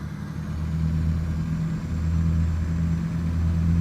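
Modded heavy-haul truck engine in American Truck Simulator, a steady deep droning rumble with strong low tones that holds evenly throughout, loud and close.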